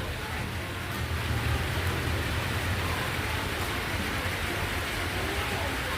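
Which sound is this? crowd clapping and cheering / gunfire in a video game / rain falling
rain falling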